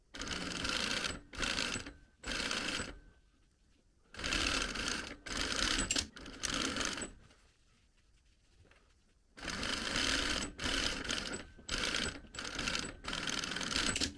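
A sewing machine runs flat seams on a welt pocket in several bursts of steady stitching, separated by short pauses and one longer quiet stretch near the middle, then continues in clipped runs.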